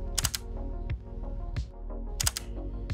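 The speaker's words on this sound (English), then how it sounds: "the shutter noise is actually quite discreet. It's almost leaf shutter level" Mechanical shutter of a Micro Four Thirds camera firing repeatedly, crisp discreet clicks in pairs and singles, close and clear with no talking.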